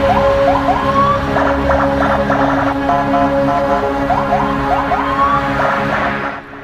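Wailing emergency vehicle siren with repeated rising yelp sweeps and steady tones, loud and close over traffic rumble, no talking.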